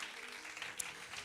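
Applause from a church congregation at a Tamil Christian service, a dense, even patter of many hands clapping, fairly faint and distant, continuing briefly.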